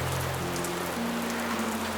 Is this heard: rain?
yes